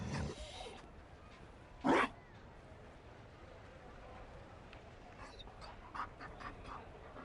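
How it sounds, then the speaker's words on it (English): A Mabari dog in Dragon Age pants faintly in short breathy bursts, with one louder huff standing out against quiet background ambience. "You found a dog? They don't breed Mabari in Olay."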